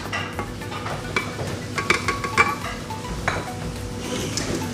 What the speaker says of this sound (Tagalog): I-mix po natin into 2 to 3 minutes until mag-blend po lahat ng ating ingredients.